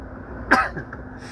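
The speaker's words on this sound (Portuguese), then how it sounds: "eu vou ter que espirrar aqui" One short, sharp sneeze from a man, a single close burst rising out of a quiet background of low road noise, with no talking around it.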